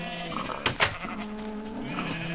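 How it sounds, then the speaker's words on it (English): A yellow sheep in Minecraft gives two short nasal bleats in quick succession, close and clear over a faint steady hum. "Oh God, a yellow sheep got out."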